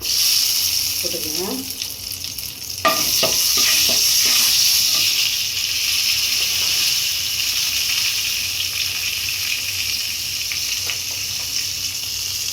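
A sprig of curry leaves drops into hot oil already tempered with fenugreek and cumin on a low flame. A sudden crackle gives way to a loud, steady sizzling hiss that carries on, with brief speech near the start.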